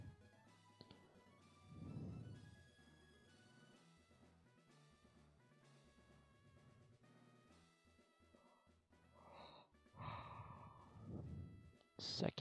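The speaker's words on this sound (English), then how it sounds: "Second yawn of the stream" A streamer yawns during a Pokémon Let's Go shiny-hunting session in Viridian Forest, drawn-out breathy exhalations rising and falling over soft background game music, with a louder burst near the end.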